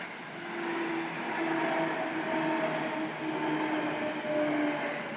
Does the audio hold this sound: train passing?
yes